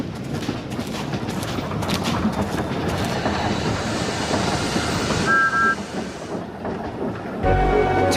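A cartoon steam engine runs along rails, giving a continuous close rumble with steady clattering texture and a brief whistle-like tone near the end.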